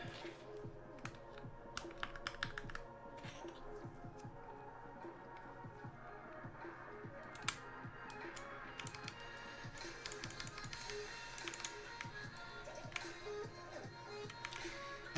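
Typing on an acrylic TGR Alice keyboard with GMK Muted keycaps and 65g Zealios V2 switches lubed with 3204, a quiet, continuous patter of keystrokes with scattered sharper clacks, heard close.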